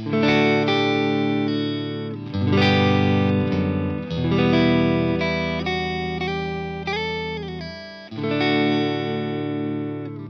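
An electric guitar played through an Origin Effects Revival Drive overdrive pedal into a Fender amp gives warm, driven chords and sustained single notes in several phrases, with brief gaps between them and no talking.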